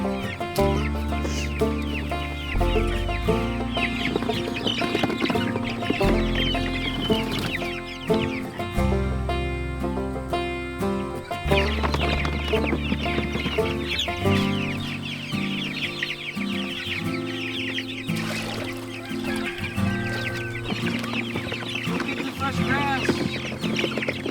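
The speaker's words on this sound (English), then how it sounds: "these chickens are 3 going on 4 weeks old" Several meat bird chickens, three to four weeks old, cluck and chirp close by under a loud musical backing that runs throughout.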